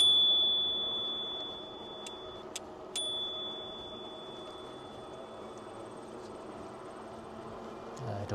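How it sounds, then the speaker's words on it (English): A bicycle bell on a Lectric One e-bike rings in a few quick, bright strikes, with a steady tone hanging underneath and a constant low rumble of riding and road noise beneath. "I better hit him with the bell"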